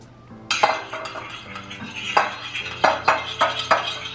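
Utensils clink and scrape against a bowl while a marinade of salt, cayenne pepper and sesame oil is mixed for seared ahi tuna, with a run of close, sharp clatters that grows busier toward the end.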